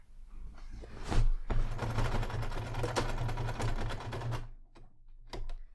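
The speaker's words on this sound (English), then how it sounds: "I'm just going to sew a line around the bottom here" A sewing machine stitches a line along the bottom of a fabric tote bag, a steady close rattling whir with a low motor hum that slows to a few last stitches at the end.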